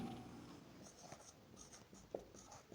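Marker or chalk writing on a classroom board, a few faint scratchy strokes in a quiet room, with no talking.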